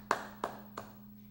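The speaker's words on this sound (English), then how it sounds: "I have to give him a hand clap" Three crisp hand claps in quick, slightly slowing succession, close and distinct over a low steady hum, with no talking.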